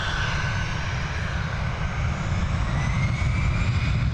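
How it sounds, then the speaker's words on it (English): Air France Airbus A320 jet engines roaring steadily at close range, a loud continuous rumble with a broad hiss above it at Dublin Airport, holding constant and unbroken throughout. "I'm going to Charles de Gaulle with this Air France Airbus A320"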